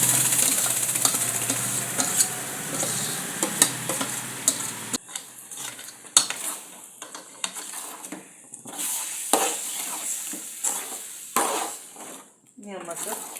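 Chilies and crushed beetroot being stirred and fried in a pan: a steady close sizzle at first, then scraping stirs with a utensil in short irregular strokes over a quieter fry.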